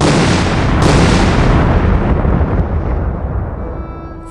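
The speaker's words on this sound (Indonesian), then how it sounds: "meledak teman-teman" A grenade explosion in a video game erupts at once with a loud boom and rolls on in a long, rumbling decay that slowly fades over several seconds, with no talking.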